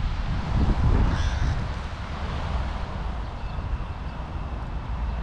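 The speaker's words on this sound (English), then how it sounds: "Here's our little crows." Several crows caw outdoors on a rainy afternoon over a steady rushing background, calls fairly close and loud at first, then fading into ambient noise.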